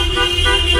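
Car horns honk continuously in a dense street motorcade in Una, a loud, near, sustained blare over engine rumble with no voices.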